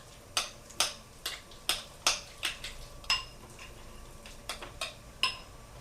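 Spoon or whisk striking a bowl while stirring a chive and margarine mixture, about a dozen sharp clinks in an uneven rhythm, close and fairly clear with no talking.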